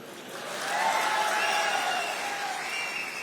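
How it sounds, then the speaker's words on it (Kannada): A small group of people claps at a political gathering, a thin scattered patter that swells slightly and then fades. It is heard at a moderate distance in a reverberant space. "ಬರೀ 4 ಜನ ಚಪ್ಪಾಳೆ ಹೊಡಿತಾ ಇದ್ದೀರಾ."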